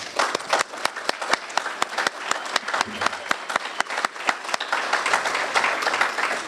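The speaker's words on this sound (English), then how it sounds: "if guests today would please stand up and receive a round of applause for being here" Steady round of applause from members at a Bradenton Kiwanis club meeting welcomes the standing guests, many hands clapping evenly and continuously for several seconds with no one speaking over it.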